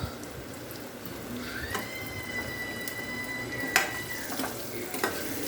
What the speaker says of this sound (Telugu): కొంచెం ఇది మగ్గితే పచ్చివాసన పోయే వరకు కొద్దిగా మనం ఫ్రై చేసుకున్నామంటే బాగుంటుంది ఫ్రెండ్స్